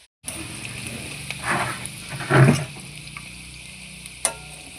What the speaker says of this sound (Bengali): আলুটাকে কিন্তু অবশ্যই ছাঁকা তেলে ভাজতে হবে